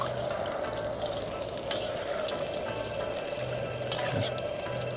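Ribs sizzling steadily in a frying pan, a loud, continuous crackling hiss that fills the whole stretch with small pops and a faint low hum underneath, no voices.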